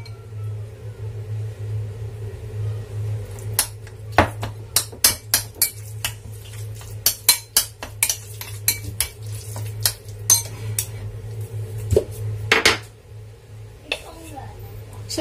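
Utensil stirring sauce in a pan for a Hong Kong-style chicken and eggplant dish, with irregular sharp metallic scrapes and clinks over a low steady hum, some strikes louder and bunched together.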